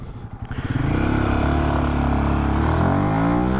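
A Royal Enfield Himalayan 450 motorcycle fires up with a brief cranking stutter, then settles into a steady, loud idle with a throbbing low rumble that holds alone to the end.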